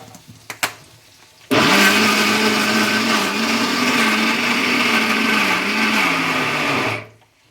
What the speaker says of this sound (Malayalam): നമുക്ക് നന്നായിട്ട് ഒന്നും കൂടി ഒന്ന് അരച്ചേക്കാവേ